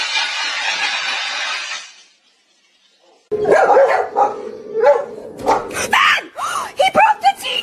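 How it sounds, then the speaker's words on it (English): Dogs bark in short, loud, excited bursts close by after a brief silence, with people's voices and shouts mixed among the barks. "this is a montage of dogs getting a little overexcited and creating some accidents"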